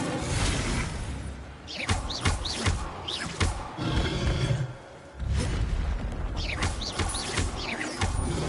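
Incendio fire spells cast in Hogwarts Legacy, several loud whooshing bursts of flame spaced across the stretch amid dense game effects and rumbling impacts.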